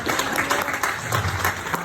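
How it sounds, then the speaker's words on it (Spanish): A short burst of clapping from a group, moderately loud, with a faint crowd murmur behind it. "Den un aplauso"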